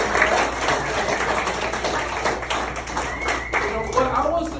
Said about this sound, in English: How about a round of applause for all of our shares tonight?